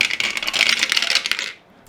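Dice rattle and clatter across a table during a Mage Knight Dungeon Crawl board game, a busy, close run of hard tumbling clicks lasting about a second and a half before stopping, with no talking.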